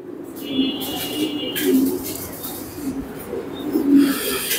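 Pigeons on a farm give low, rolling coos in repeated soft bursts, close by, with some faint human sounds mixed in.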